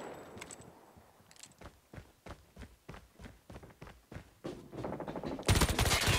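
A machine pistol SMG fires in Call of Duty Mobile, rapid bursts of sharp cracking shots in quick rhythm, building to a dense loud volley at the end.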